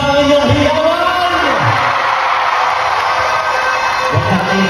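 Crowd cheering at a rally, a big audience yelling and whooping in a steady roar, loud and close throughout, with swelling shouts rising out of the din.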